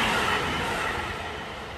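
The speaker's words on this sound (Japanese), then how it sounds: "電車の音は気になりますけども" A train passes close to a residential building near the tracks, a broad steady rumble and rush that fades slightly over under two seconds, with no voices.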